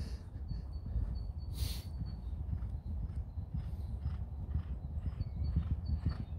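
A horse's hooves clip-clop at a steady walking pace, with a low rumbling background throughout and a brief sharper noise partway through, no talking.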